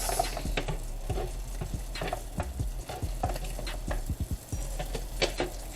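Shrimp, chicken and sausage seasoned with garlic powder and Cajun Creole seasoning are mixed by hand in a bowl, giving a steady run of wet squelching and pattering stirs, close and fairly loud, with no talking.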